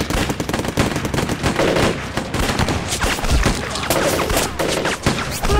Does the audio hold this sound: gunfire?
yes